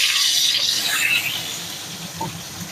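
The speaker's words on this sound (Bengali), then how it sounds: "আমি তেলটা গরম করে নিয়েছি, এবার সিম আঁচ করে আমি এই বেগুনগুলো দিয়ে দিলাম।" Eggplant slices dropped into hot oil on low heat, a bright hissing sizzle that is loudest at the start and then settles into a softer crackle, no talking.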